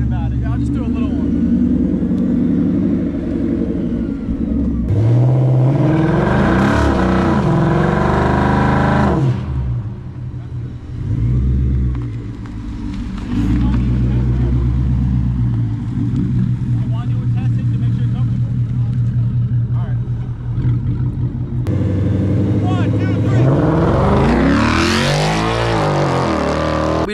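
A Ford Mustang Dark Horse roars through a burnout, its engine revving hard in repeated loud surges with dips between bursts, while people talk over the noise.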